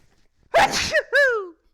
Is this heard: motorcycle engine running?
no